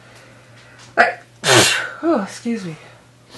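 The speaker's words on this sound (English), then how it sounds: "I gotta sneeze too." A single sharp sneeze from a woman during a tarot reading at home, followed by a brief spoken apology and some quieter voiced sounds.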